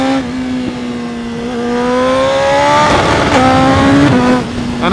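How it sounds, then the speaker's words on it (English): A BMW S1000RR superbike, still being run in with an artificial 8,500 RPM limit, holds its engine against the rev limiter, producing a loud, close, sustained buzzing drone that stutters and bounces in pitch without any talk. "that awesome noise you can hear is the rev limiter"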